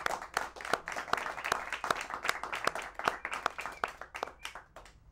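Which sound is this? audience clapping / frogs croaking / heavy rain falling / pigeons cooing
audience clapping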